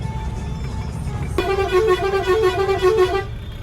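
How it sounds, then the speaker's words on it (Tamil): Traffic on a single-lane main highway in Bihar, with a loud, sustained vehicle horn blaring for about two seconds over the steady rumble of passing engines from large lorries. "இந்த மாதிரி பெரிய பெரிய லாரிலாம் போகுது"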